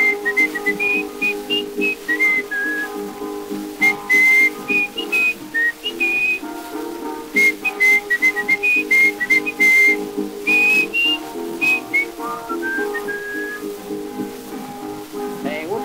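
A man whistles an old familiar tune in a 1925 recording, the clear melodic whistle carrying in phrases over a steady instrumental accompaniment with no singing.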